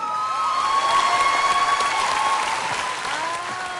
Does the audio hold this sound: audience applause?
yes